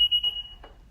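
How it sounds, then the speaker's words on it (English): A sharp, high-pitched electronic beep sounds close by from a Honda or Acura car whose trunk pops back open with the key inside, followed by a couple of faint clicks and thuds. "It just opens back up and it beeps."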